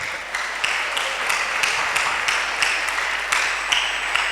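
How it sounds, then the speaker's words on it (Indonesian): Audience applause closing a talk session with Dr. Ibrahim Ali, a steady wash of clapping with a few sharper claps standing out, fairly loud and continuous. "sama-sama tepuk tangan untuk Pak Dr. Ibrahim"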